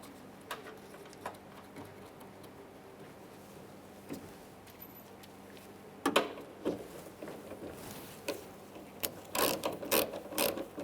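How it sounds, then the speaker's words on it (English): A wrench tightens the mirror nuts on a Ford E-350 Super Duty van, giving sparse ratcheting clicks and faint metallic taps that grow into a busier burst of ratchet clicks near the end, close but fairly quiet. "And then I'm going to be torquing these to 80 inch-pounds"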